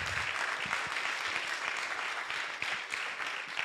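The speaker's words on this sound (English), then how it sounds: "so that we give you this, a round of applause" A university colloquium audience gives a steady round of applause, dense, even clapping from many hands that fills the room for the whole stretch.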